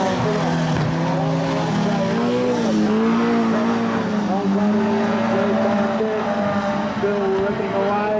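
Four-cylinder sedan race cars lap Kingaroy Speedway in a heat race, engines droning and rising and falling continuously at a steady distance, with a commentator talking over the racing.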